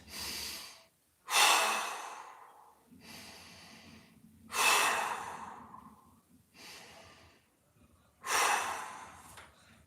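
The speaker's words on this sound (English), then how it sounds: "Nice big breath. 3 big breaths." Deep, slow breaths taken during a standing quad mobility stretch against a wall, about four close inhale-exhale cycles with pauses between, audible and unaccompanied by talk.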